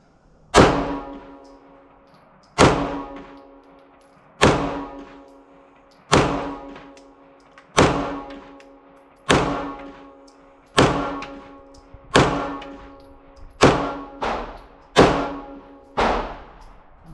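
Ten shots from a Springfield SA-35 pistol at an outdoor range on a cold day, each a sharp loud crack with a quick decaying tail, spaced at a steady rhythm of roughly one every second and a half, with no talking.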